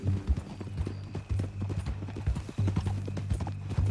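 Horse hooves clip-clop in a steady walking rhythm, close and distinct, over a low humming background.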